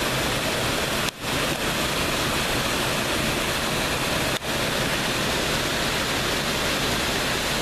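Steady, dense roar of a mountain waterfall at Elliot Creek, heard up close with spray in the air, continuous broadband rush that briefly dips twice, no voices.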